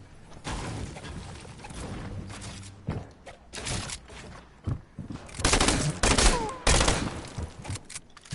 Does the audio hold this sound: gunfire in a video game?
yes